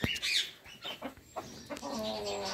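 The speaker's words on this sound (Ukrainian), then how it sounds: "шерстяні якісь кури." Chinese silkie chickens at a zoo in Okhtyrka, Ukraine, clucking in short bursts close by, with scattered rustling and other fowl calls layered over one another.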